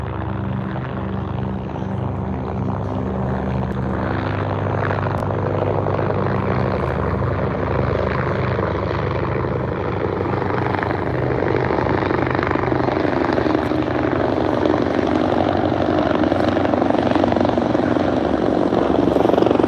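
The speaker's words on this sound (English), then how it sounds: "Ooh, I hear a helicopter. Ooh, I see 3 helicopters now, man." Three helicopters pass overhead, their rotors making a steady, heavy chopping drone that holds for the whole stretch and swells a little louder toward the end.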